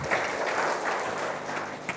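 A congregation at a church worship service applauds, a dense, steady wash of many hands clapping together for the full stretch.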